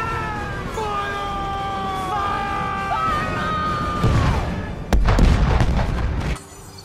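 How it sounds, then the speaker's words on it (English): Cannons fire in the golden Black Howl Gunspire card animation from the Hearthstone video game. Rising and falling tonal whines lead into two heavy booms, with a loud blast near the end. "If they would have just moved the cannons back during the firing"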